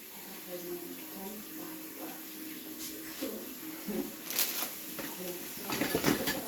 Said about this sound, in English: I am washing my onion.